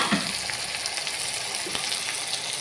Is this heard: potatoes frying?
yes